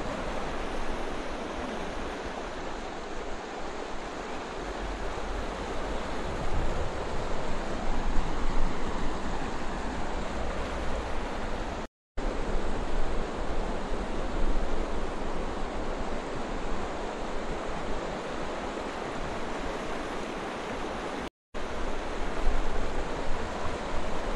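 A strong monsoon current rushes over a rubber dam in a steady, loud broadband roar of churning water, constant and close throughout with brief dropouts, no voices.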